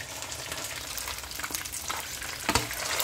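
Fish cooking slowly over low heat in a pan with a ginger sauce, giving a steady close sizzle with a brief louder crackle near the end and no voices.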